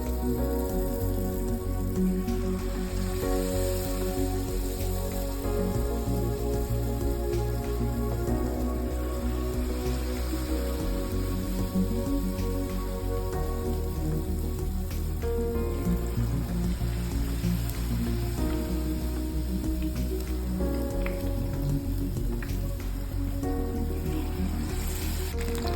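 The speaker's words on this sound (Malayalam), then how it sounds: "എണ്ണ ചൂടായി നമ്മൾ ഓരോന്നായിട്ട് വറുത്തെടുക്കാം." Jackfruit pieces deep-fry in a deep pan of hot oil, giving a steady, dense, close sizzling hiss that sounds like rain and continues without pause.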